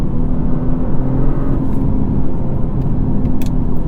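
The 3.3-litre twin-turbo engine of a 2022 Genesis G70 3.3T drones steadily under acceleration, a loud, close, continuous low rumble heard from inside the car.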